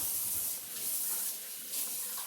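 Warm water runs steadily from a kitchen tap with a soft, even hiss and splash for a few seconds, no speech over it.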